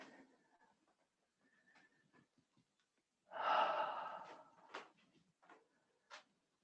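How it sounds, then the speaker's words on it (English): A qigong practitioner breathes slowly in and out through the nose into the belly. A soft exhale swells and fades mid-clip, with quieter breaths around it and no talking. "Breathing in and out through the nose and the belly."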